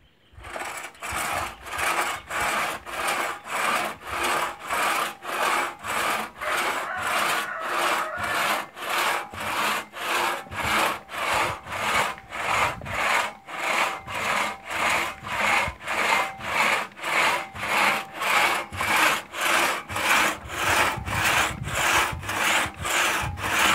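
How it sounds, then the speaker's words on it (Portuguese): A two-man crosscut saw (traçador) worked by hand through timber in an old-style logging demonstration: steady rhythmic rasping strokes, roughly two per second, close and loud for over twenty seconds without pause. "Aí a gente está dando a demonstração aqui como era serrada a madeira."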